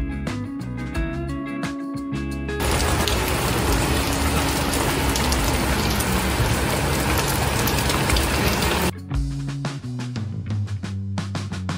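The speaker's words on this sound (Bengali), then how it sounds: "সো ফাইনালি বৃষ্টি নেমেই গেল।" A sudden downpour of rain on a rainy day, a dense loud hiss of drops on surfaces that starts abruptly after a few seconds, runs steadily for several seconds, then cuts off, with no voices.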